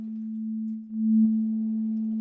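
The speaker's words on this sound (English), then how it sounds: "this is 2 sine waves layered over each other" Two layered sine wave oscillators in a free synth plugin produce a steady, pure low tone that holds without a break, gaining a faint extra overtone partway through. No voices or other sounds.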